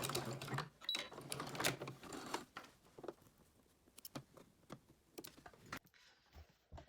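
A sewing machine back stitches at the end of a placemat hem, giving quiet, short bursts of rapid mechanical stitching separated by brief pauses.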